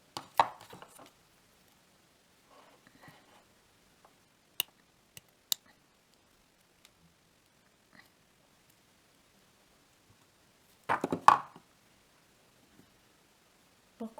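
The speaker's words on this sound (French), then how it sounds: "je coupe un petit peu la pointe" Wire cutters snipping the tip of gold-filled wire while shaping a solder-free ring, giving a few sharp, isolated clicks and a cluster of snapping sounds near the end, close and alone in a quiet room.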